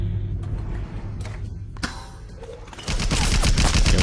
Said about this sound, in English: Oh, but Joe seems to have activated this turret